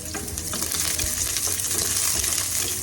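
Garlic browning in hot oil in a pan, a continuous bright sizzle with occasional stirring scrapes, close and fairly loud with no talking.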